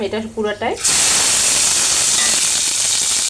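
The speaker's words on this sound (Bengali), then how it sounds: "আমি এখানে দিয়ে দেব মশলাটা যে বেটে রেখেছিলাম" Ground spice paste for a tangra fish curry hits hot oil with a sudden loud hiss and sizzle that holds steady, following a moment of someone speaking.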